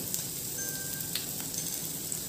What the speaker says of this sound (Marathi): आता आपण यामध्ये आलं व हिरवी मिरची क्रश केलेली